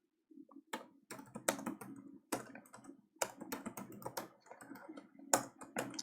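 Someone types C code on a computer keyboard, irregular clusters of crisp key taps separated by short pauses, close and fairly quiet.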